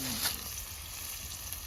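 Oil sizzling loudly as a tempering for poha hits the hot pan, a steady broadband hiss with a brief sharper burst near the start, in a home kitchen.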